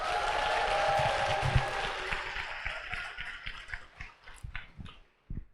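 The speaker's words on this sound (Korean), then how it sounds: "박수 한번 치세요. 박수." Seminar audience applauding in a hall, a dense wash of clapping that thins out into scattered individual claps and then stops near the end.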